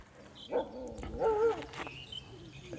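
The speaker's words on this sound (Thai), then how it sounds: "ไม่เห็นหมามันเห่าไงเหมือนมันพูดแข่งกับทิศอื่นอะ" A dog barks outdoors in a hilly rural area with scattered houses, two or three short barks at moderate distance against a quiet background.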